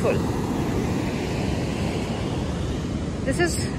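Sea waves wash onto the beach at a South Goa resort, a steady broad surf rush with wind on the microphone, and a brief chirp near the end.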